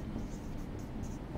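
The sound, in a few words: writing on a board during a lesson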